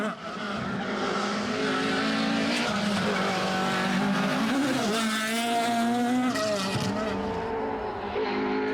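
A 2.5 litre Ford Escort rally car races on a historic rally stage, its engine revving loudly and changing pitch as it slides, with tyre squeal and a sustained close roar throughout.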